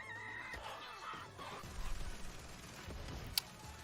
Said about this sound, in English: Who brought the rooster?